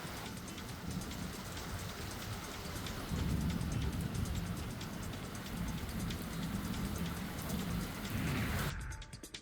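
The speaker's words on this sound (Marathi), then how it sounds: "मावळमध्ये मेघगर्जनेसह पाऊस बरसला" Steady heavy rain pours down on a surface in Maval, a dense continuous hiss with low rumbling swells of thunder, ending abruptly.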